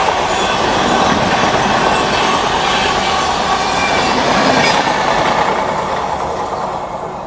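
A festival special train running from Patliputra to Anand Vihar rolls past close by, a loud, steady rumble of wheels and carriages that holds throughout and eases slightly toward the end.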